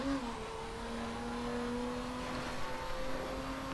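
A Bentley Continental Supersports engine in the racing game The Crew hums steadily under acceleration, a smooth, continuous drone with a slowly rising pitch and no voices.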